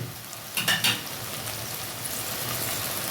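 Taro stolons (kochur loti) frying in a pan, a steady close sizzle with a brief cluster of scraping and clinking utensil strokes early on, then an even hiss, with no speech.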